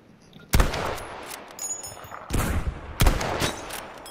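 Gunfire in the video game Firestorm, with three sharp, loud shots spaced a second or two apart. Quieter rattling combat noise fills the gaps between them.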